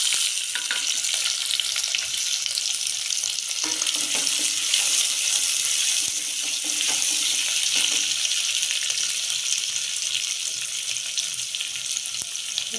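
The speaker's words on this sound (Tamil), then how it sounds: "வெங்காயம் நல்லா வதங்கும்." Four big sliced onions with a bay leaf saute in hot oil with salt, a loud, close, continuous crackling sizzle lasting throughout, with occasional stirring scrapes and no talking.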